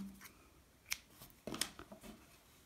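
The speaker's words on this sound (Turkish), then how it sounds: "Bu kısımda ipimi kesiyorum." Two quick, close snips of scissors cutting crochet yarn while making a crocheted owl appliqué, in an otherwise quiet room with no talking.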